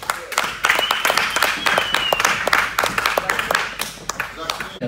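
A live show audience claps to welcome a court magician onto the stage, with steady, fairly close applause running under a host talking over it.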